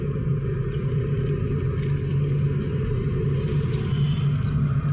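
Inside a moving car on a morning road, a constant low engine and road rumble with light rattles and clatter continues steadily, with no one speaking.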